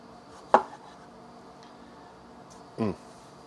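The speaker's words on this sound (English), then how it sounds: "knife on this nice big juicy tomato. Look at that, we can get some nice thin slices." A knife slices a big, juicy tomato into thin slices, giving two short, crisp cutting strokes about two seconds apart against a quiet background.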